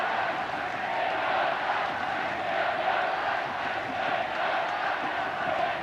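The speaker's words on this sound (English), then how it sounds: "Crowd reaching a long crescendo." A massed crowd at the 1986 England v West Germany field hockey World Cup semi-final roars steadily and loudly. The broad sustained din holds throughout, with no break.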